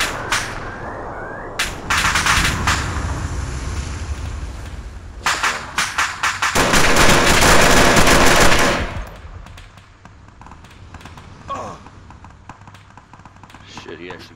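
Gunfire in the ARMA 2 military game: clusters of sharp rifle shots and bursts, several rapid volleys building to a loud sustained barrage around the middle, then quieter scattered pops under squad voice chat.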